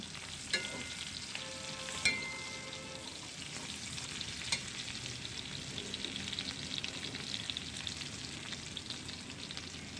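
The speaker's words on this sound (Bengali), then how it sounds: "এটা একটু তেলে ভেজে নিয়ে দিয়ে দেবো দুটো তেজপাতা" Whole cinnamon, cardamom and bay leaves fry in hot oil for chicken korma, giving a steady close sizzle and crackle with a few sharp pops near the start, continuing evenly without voices.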